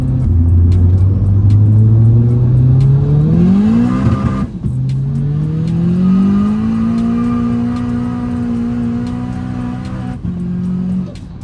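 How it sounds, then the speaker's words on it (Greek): A 600 hp big-turbo front-wheel-drive VW Scirocco with DSG gearbox pulls hard through third gear, its loud engine note climbing steadily in pitch, dipping briefly at a shift-like break, then droning on at high revs before easing. "Η Άρη αφήνει κάτω όλη την τρίτη. Όλη την τρίτη, απίστευτο."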